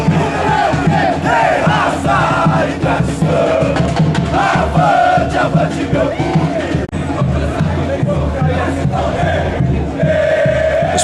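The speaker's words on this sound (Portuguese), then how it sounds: "Com caixões, faixas e muito grito de protesto, a torcida bugrina se organizou na porta da entrada do Queijo" Guarani football supporters shout and chant in protest outside the club's administrative building at the stadium entrance. A dense, loud, continuous roar of many voices fills the whole stretch.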